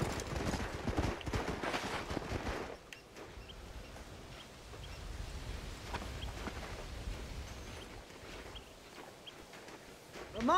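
Horses walk over ground in the Red Dead Redemption video game, their hooves clip-clopping in a loose, uneven rhythm, louder at first and then fainter under ambient outdoor sound.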